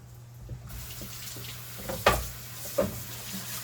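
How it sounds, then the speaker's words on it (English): Tomatoes are laid into a hot pan and start frying with a soft, steady sizzle, punctuated by a couple of sharp clacks of utensils against the pan, close by and with no talking. "So now I'm going to take the tomatoes and just layer it with tomatoes, like that."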